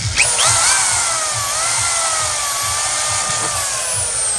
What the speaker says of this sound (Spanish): marcamos nada más dos perforaciones. Lo quitamos. Perforamos.